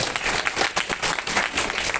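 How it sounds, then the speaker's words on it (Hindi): An audience at a Tiens business presentation claps energetically, loud close applause with distinct pulsing bursts of hand claps throughout. "एक बार टियांग के लिए जोरदार तालियां होनी चाहिए"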